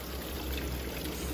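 Fuel pours out of a trailer's fill tube in a steady, close liquid rush with a gurgling trickle, continuous for the whole short stretch.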